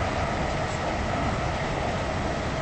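A two-coach train runs along the line in the Roblox game Stepford County Railway, a steady, even rumble and rush of running noise with no announcements over it.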